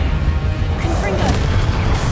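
A Confringo blasting spell cast in Hogwarts Legacy, loud and close, with a smashing, crashing burst and a continuous heavy rumble under it.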